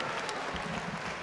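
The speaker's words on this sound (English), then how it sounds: "Do give them an applause, because they give you guys so much." Audience applause at a Team Fortress 2 grand final event, steady crowd clapping that fills the whole short stretch at an even, moderately loud level.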